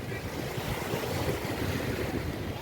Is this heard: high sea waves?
yes